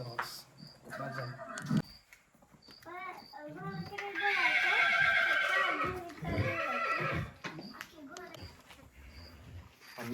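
A horse in a stable gives a loud, drawn-out neigh near the middle, with clip-clop hoof sounds, insects in the background and people talking around it.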